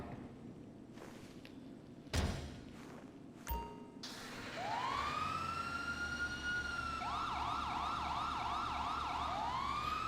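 In GTA Online, a police RCV's siren starts after a few thuds and clicks. It rises into a wail and then switches to a rapid, repeating yelp, loud and continuous to the end.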